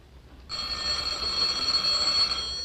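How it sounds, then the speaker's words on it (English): A telephone bell rings steadily and alone for about two seconds, a bright continuous old-fashioned ring in a quiet room. "Ah, there's the phone."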